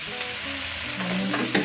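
Milkfish sizzles steadily in a hot pan for ginataang bangus, a constant close crackle with a few clinks of a utensil near the end.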